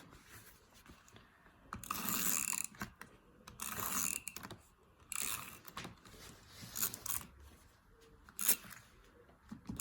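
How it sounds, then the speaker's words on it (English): Craft tape tears off a roll and presses onto a handmade Valentine's Day card in several short, faint ripping and crinkling bursts, close by and separated by quiet pauses, with no voices. "now we are going to use the crafts tape. And it's not a sponsor. We are going to tape this on here"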